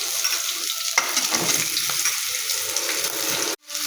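Panch phoron spices temper in hot mustard oil, a close, busy crackle and sizzle with stirring scrapes, ending abruptly in a brief silence.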